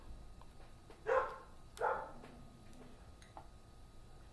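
A dog barks twice in quick succession, fairly close and clear, then the room goes quiet apart from faint background noise.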